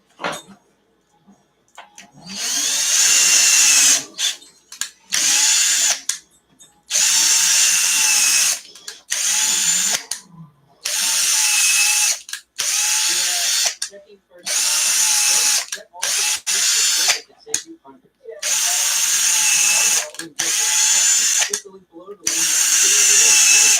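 Power drill boring a 3 mm hole into an ARRMA Kraton RC car, running in repeated loud whining bursts separated by short pauses, close up and alone.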